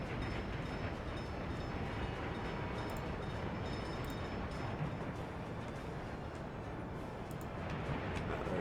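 Waste train rolling into a depot in the city-building game Workers and Resources, heard as a steady, dense rumble with faint rail clatter that runs unbroken at an even, fairly loud level.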